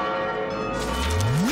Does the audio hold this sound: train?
no